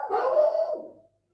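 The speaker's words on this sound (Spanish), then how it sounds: "Perdón que tengo un problema con los perros." A single dog lets out one drawn, howling bark close by, trailing off after about a second into silence.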